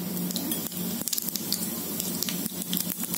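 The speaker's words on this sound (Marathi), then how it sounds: "आता मी ना जिरे मोहरी घालते" Cumin and mustard seeds dropped into hot oil for a bread pakora, giving a close, crackling sizzle with sharp popping spatters over a short stretch, no talk.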